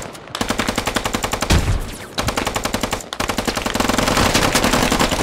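Rifles fire in rapid, rhythmic bursts during a battle, the loud close shots repeating in quick strings with brief gaps between volleys.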